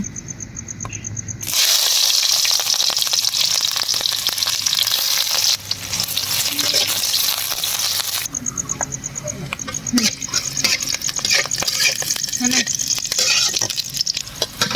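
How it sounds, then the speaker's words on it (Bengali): Chopped onions fry in hot oil in a kadai, a loud continuous sizzle that swells and settles, with brief stirring shifts in the hiss; a voice speaks now and then beneath it. "তার জন্য কড়াইতে তেল দিলাম পেঁয়াজ কুচি দিব"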